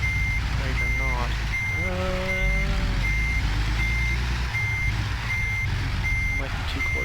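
Steady, evenly spaced reversing beeps from a truck backing a trailer in American Truck Simulator, over a loud diesel engine rumble, with a brief air-brake hiss partway through.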